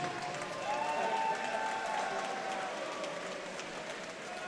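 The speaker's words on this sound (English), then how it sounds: "a big round of applause, please, for both of the fighters in this cage" Crowd applause and scattered cheering ring out for both fighters after a WXC 88 cage fight ended by knockout, a steady wash of clapping that swells briefly and then holds, with a faint voice under it.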